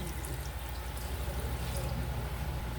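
Water poured into a cooking pot holding fish, a steady, even splashing stream, close and unbroken throughout.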